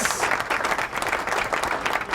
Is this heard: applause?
yes